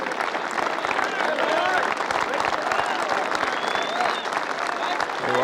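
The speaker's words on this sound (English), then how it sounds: "Very warm and appreciative applause." The golf gallery at the 1993 Masters final round applauds with warm, sustained clapping from a large crowd, steady throughout, while a commentator's voice talks over it.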